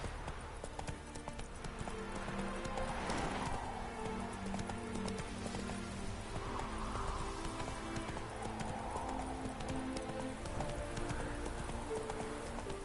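A horse gallops in The Witcher 3, rhythmic clip-clopping hooves continuous and fairly close, with occasional snorts over a soft outdoor game ambience.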